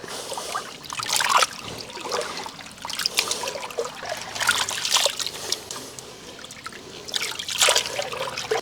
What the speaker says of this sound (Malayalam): അപ്പോൾ ഇത് പൈപ്പിൻ ചോട്ടിൽ കൊണ്ടുപോയി നല്ലപോലെ വൃത്തിയായിട്ട് കഴുകിക്കൊണ്ട് വരും